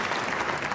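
A bowling crowd at a tenpin masters event bursts into steady, dense applause after a strike, loud and continuous for the whole short span.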